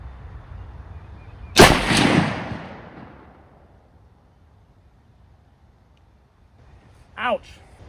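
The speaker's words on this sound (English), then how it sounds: "I'm just gonna shoot." A Ruger American Compact .308 rifle fires a single loud, sharp shot outdoors, with a booming report that rolls away over a couple of seconds. A brief voice is heard near the end.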